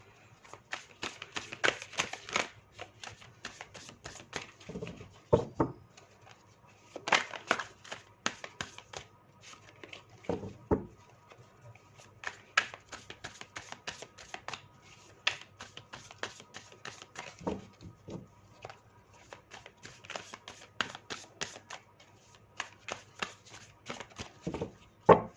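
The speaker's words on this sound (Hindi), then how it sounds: "चलिए अब मैंने कार्ड शफल कर लिया।" Tarot cards shuffled by hand, a quiet, close run of rapid riffling and flicking bursts repeating in irregular clusters with short pauses between them.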